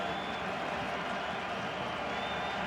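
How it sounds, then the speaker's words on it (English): Stadium crowd noise at BC Place during a CFL football game between the Hamilton Tiger-Cats and BC Lions, a steady roaring wash of cheering and clapping that holds at an even level throughout, with no break. "Crowd back into it here at BC Place. Noise always an issue."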